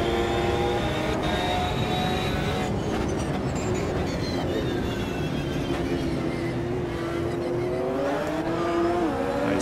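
GT1 race car engine roaring around the Zolder circuit in Automobilista 2, loud and continuous with rising and falling revs and gear changes, no speech.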